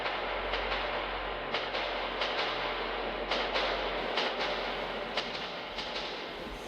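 A ghostly metro train rolls through a tunnel in the video game Metro 2033, a faint, steady low rumble broken by repeated rhythmic clacks of wheels on track.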